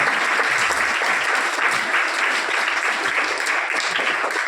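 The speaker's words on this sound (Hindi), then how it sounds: "तालियां भी ऐसे बजाओ" An audience at a Mahavir Jayanti religious gathering claps loudly and continuously, a thick, even roar of many hands that stays at full strength throughout.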